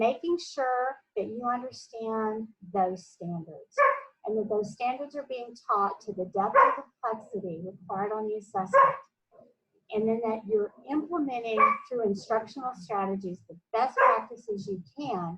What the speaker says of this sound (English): I apologize for my crazy dogs.